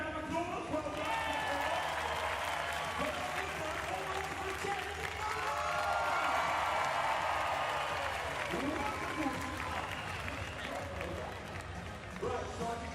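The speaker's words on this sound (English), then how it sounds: "let's get our wonderful Sydney people a big round of applause" Sustained crowd applause with cheering fills a wheelchair basketball venue at the Paralympic Games, a dense steady wash that holds loud throughout and thins slightly near the end, with some speech mixed in.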